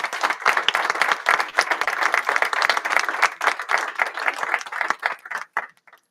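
Audience applause for a young chef at a European young chef award, close and lively, with dense clapping for about five seconds that thins out and stops.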